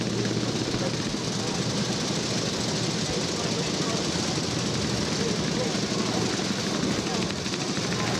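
A 1920 Cross Superior vintage motorcycle sets off at a club road run, its engine adding to a dense, continuous mechanical roar and broadband rumble, with a commentator speaking over the din.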